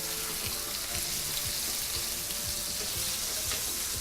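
New York steak sears in a hot pan with a steady, close crackling sizzle, a continuous hiss punctuated by small pops and spits throughout, no voices.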